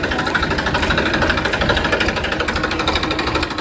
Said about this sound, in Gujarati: ટ્રેક્ટર થઈ ગયો આપણે તૈયાર